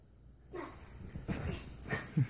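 Two dogs at play whimper and huff close by, a series of soft, squeaky whines and breathy snorts coming in short irregular bursts.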